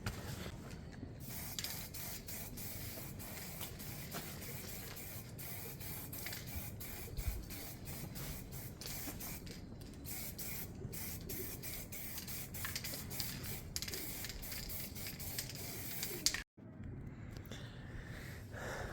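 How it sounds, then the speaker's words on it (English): Steady hiss of an aerosol spray can laying lacquer onto a Honda CD200 motorcycle chain guard, continuous and close with a few faint mechanical clicks, cutting out briefly near the end. "So I'm gonna get some lacquer on that one."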